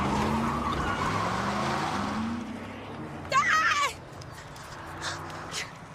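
A car drives through a tense film scene, its engine a steady rumble beneath agitated voices, with a brief sharp tire squeal or skid cutting through partway.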